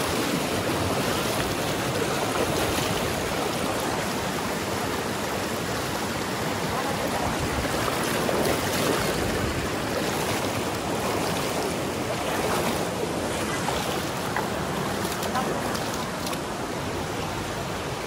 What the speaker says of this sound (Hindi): यहाँ से पानी बहुत तेज़ और गहरा है